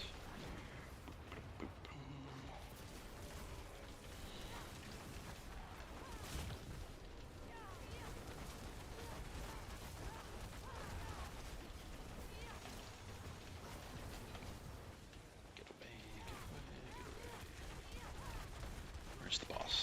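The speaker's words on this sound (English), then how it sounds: "This is the bombardment." Rapid crackling fireball and bombardment explosions from a sorcerer build in Diablo 4, a dense continuous barrage of overlapping blasts and impacts that stays loud throughout, with a voice talking over parts of it.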